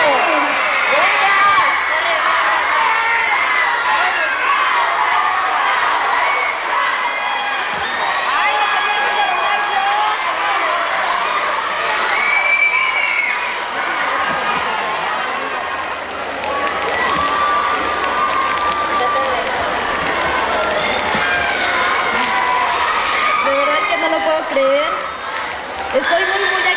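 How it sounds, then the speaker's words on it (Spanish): Audience cheering, shouting and clapping at a beauty pageant in Ixmiquilpan after the runner-up is announced, a sustained, loud crowd roar with whistles and shrieks, voices over the top throughout. "que se escuche el aplauso"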